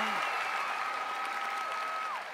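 Studio audience on a Thai singing competition show claps in a steady, dense burst of applause that carries through the whole moment and fades slightly at the end, with a tone sounding over it.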